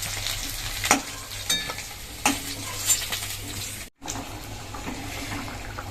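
Potatoes frying in a pan on a home stove give a steady close sizzle, broken by a few sharp stirring clatters and one brief cutout.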